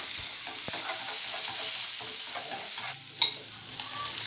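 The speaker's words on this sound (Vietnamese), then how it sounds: "bây giờ mình cho dầu nóng là mình sẽ cho một chút bơ lạc vô để mà xào qua cái nguyên liệu này cho nó thơm" Chopped ingredients stir-fried in hot oil with a little peanut butter, a steady close sizzle with scraping stirs and a sharper clatter near the end.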